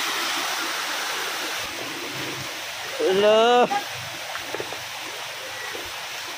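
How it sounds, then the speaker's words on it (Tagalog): Floodwater rushes along a road instead of the creek, a loud, continuous broadband roar of flowing water, briefly overlaid by a short spoken greeting midway. "musubay ang tubig karon og dan, dili na sila sa sapa"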